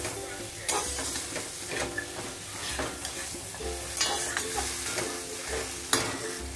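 Ghugni sizzles with spices in a pan while being stirred, a continuous frying hiss broken by occasional scrapes and knocks of the spoon against the pan.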